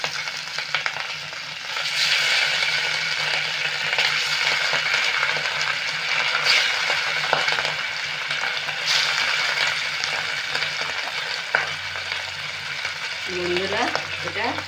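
Rohu fish pieces sizzling in hot oil in a kadai, a steady, loud continuous frying hiss with light stirring, the sizzle holding throughout.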